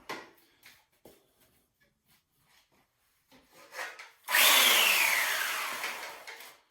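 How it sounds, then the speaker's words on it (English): A hand plane shaving a rattan sword blade with a few short scraping strokes, then one long, loud, close stroke that rasps steadily and tapers off. "And then I just kind of start planing."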